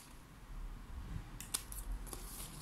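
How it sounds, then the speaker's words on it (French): Scissors cut diagonally through paper during a paper-craft album project: a few faint, quick snips close by in a quiet room. "vous venez couper en biais"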